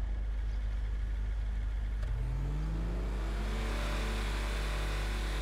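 Armored combat jeep engine in Grand Theft Auto V: a low, steady motor drone rises into a revving acceleration midway, its pitch climbing and sustained to the end, loud and alone.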